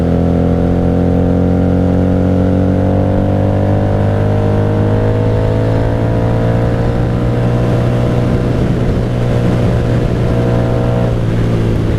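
A 1997 Honda Magna 750 V-four cruiser with Vance Hines exhaust roars loud and close on a cold-weather ride, its engine note climbing steadily through the gears for the whole stretch with no talk.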